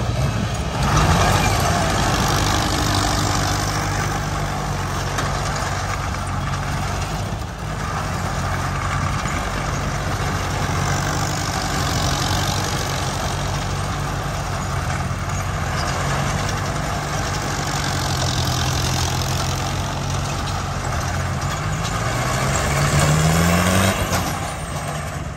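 A turbocharged rice tractor engine idling in a Thai rice field, a loud, steady low diesel rumble that runs throughout with a slight swell near the end.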